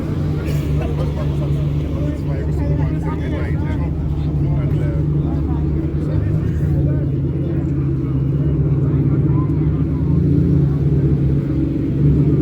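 Supercars including a Ferrari Testarossa and a Lamborghini Diablo arrive at a Goodwood Breakfast Club meet, a steady engine rumble with low revving carried throughout under crowd chatter and voices.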